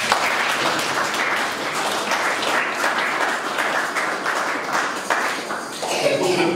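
A church congregation claps together through a Sunday Mass during the Easter season, a steady, dense wash of applause that holds at an even level, with a few scattered voices mixed in.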